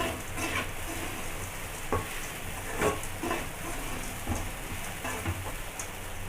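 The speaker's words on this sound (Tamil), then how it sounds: "நல்லா கிளறி விட்டுக்குங்க." Ragi semiya upma stirred in a pan, a steady soft sizzle with scraping spoon strokes and occasional knocks against the metal, close by and without talk.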